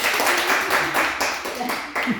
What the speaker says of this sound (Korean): 일단은 천만 원 벌었다 생각하고 박수 한번 쳤어요.